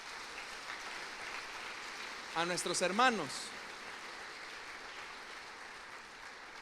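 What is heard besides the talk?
church congregation applause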